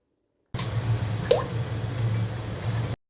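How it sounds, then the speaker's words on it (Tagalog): A cup of milk is poured slowly into a flour mixture while it is stirred for a pasta white cream sauce, giving soft wet squishing and dripping over a steady low hum, with no talking. "ilalagay natin yung 1 cup na gatas, dahan-dahanin rin natin ito habang hinahalo natin para hindi mabubuo yung ating flour"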